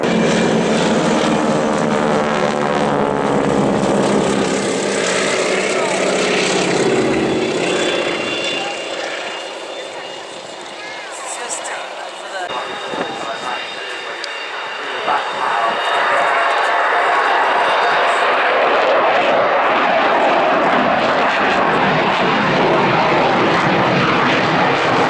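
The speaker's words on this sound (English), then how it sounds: "NHIndustries NH90" NH90 helicopter flying a display at the Royal International Air Tattoo at RAF Fairford in 2013, a loud rotor and engine roar that dips briefly in the middle before swelling back, with crowd voices underneath.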